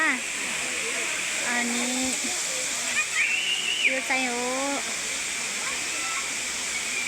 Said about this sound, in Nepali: यो चाहिँ हो हाम्रो पुरुन्धारा छहरा